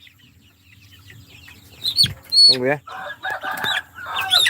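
A large-bodied farm chicken, raised on a protein-balanced feed, clucks close by in a few short bursts, with someone talking briefly over it.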